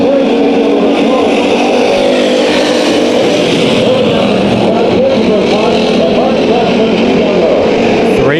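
Race cars in a heat race at Bakersfield Speedway roar together at the green flag, a loud, dense wall of engine noise that holds steady throughout, with an announcer talking over it.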